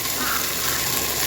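Water gushes in a steady, loud, close stream into a pot of masala rice with potatoes, peas and chickpeas, a dense continuous pour lasting about a second.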